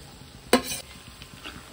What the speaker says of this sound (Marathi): तेलामध्ये सगळं छान भाजून घेते